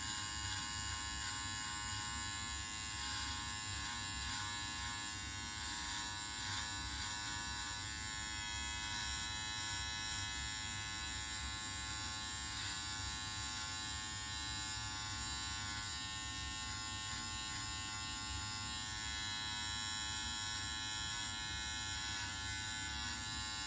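Electric beard trimmer buzzing steadily while trimming sideburns, a continuous close, high-pitched motor whine with slight flutter as it moves along the hair, quiet and alone.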